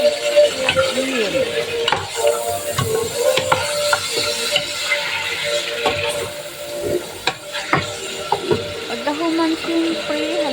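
Food stirred in a sizzling pan after salt goes in, a constant frying hiss broken by irregular scrapes and clanks of the utensil against the pan, close and fairly loud, with a voice talking now and then.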